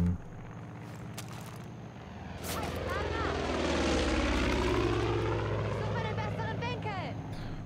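Aircraft engines roar in from air support in the game Far Cry 5, a propeller drone swelling from moderate to loud and holding steady, mixed with other game noise and a voice talking over it.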